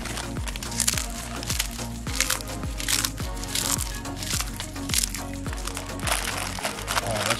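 Peanuts in the shell are crunched up by hand outdoors in the woods, a steady stream of dry crackling and crinkling close to the listener with no talk.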